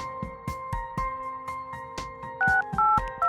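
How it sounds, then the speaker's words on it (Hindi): Mobile phone keypad tones beep in quick succession, each a short sharp tap, followed by a few louder two-tone ringback pulses near the end, close and clear with no talking. "रुको, मैं उसे फोन करती हूँ।"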